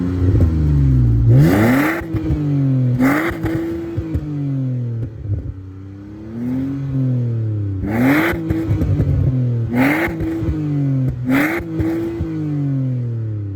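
A car with a resonator-deleted exhaust revs hard several times in bursts, a loud raspy exhaust roar rising and falling, with brief quieter idle gaps between pulls.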